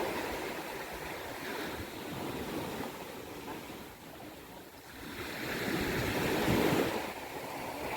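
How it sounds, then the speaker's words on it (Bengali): Sea waves wash onto Bharatpur beach on Neil Island in the Andaman Islands as the tide comes in, making a continuous soft roar of surf with some wind that swells louder toward the end, with no talking. "ধীরে ধীরে জোয়ার আসছিল, আর অনেকেই আসছিলেন স্নান করার জন্য।"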